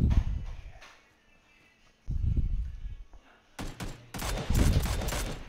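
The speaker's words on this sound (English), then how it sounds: "Shooting at me from somewhere, dude." Gunfire in PUBG, bursts of sharp shots near the end after quieter scuffling and muffled thumps, loud and close.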